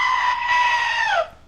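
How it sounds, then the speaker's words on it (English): A single bleating goat call from a novelty sound button, loud and close, holding steady for about a second before dropping in pitch and cutting off. "Get your goat sound button at Amazon.com."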